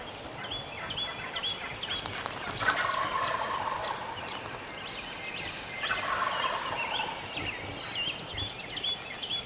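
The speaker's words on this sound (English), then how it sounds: "Hope you enjoyed the turkey noises." Wild turkeys gobbling outdoors in the early morning near a camp, with bursts of loud rattling gobbles around the middle and again later, overlapping calls from several birds over a steady background.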